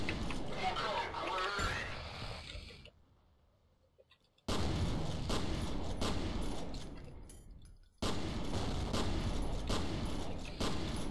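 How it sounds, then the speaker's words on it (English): Grenade blasts in F.E.A.R. Extraction Point, heavy booming bursts that cut off abruptly into near silence before loud roaring noise returns, with a voice talking over the early part. "Nope. Grenade."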